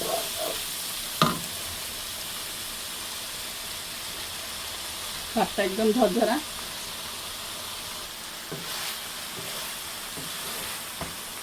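Rice for spicy fried rice is stir-fried and tossed in a hot pan, a steady close sizzle with occasional clacks of the spatula. A voice speaks briefly partway through.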